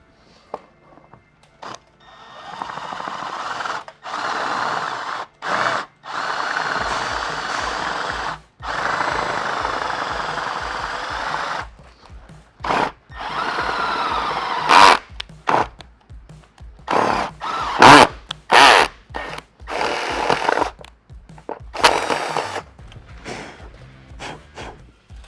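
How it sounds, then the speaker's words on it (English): Power drill boring a 3/8 inch hole for a rivnut during a Ford F-150 rack install: loud whirring bursts of drilling, several runs of a few seconds each separated by pauses, then shorter choppy stops and starts. "there's your first hole drilled all the way out to 3/8"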